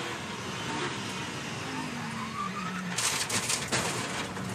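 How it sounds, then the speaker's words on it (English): A race car at Virginia International Raceway during the 2023 Michelin Challenge sweeps past, its engine tone sliding downward over steady, loud broadband track noise, followed by a few sharp crackling bursts near the end. "Car goes by. Then you hear it."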